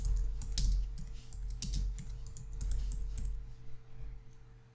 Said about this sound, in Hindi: यहाँ पर मैं कुछ टेक्स्ट टाइप कर देता हूँ।